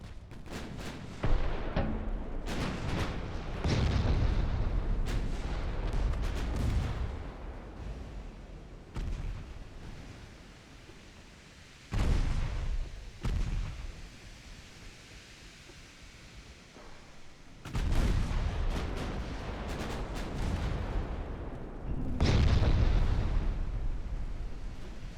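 Torpedo hits in a naval warship video game: several loud, booming explosions in separate bursts with rumbling pauses between them.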